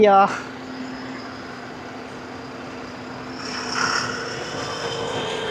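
A camera drone flies over a Volvo bus test track, giving a steady, moderately loud motor whine that holds throughout and swells slightly toward the end, with a brief voice at the very start.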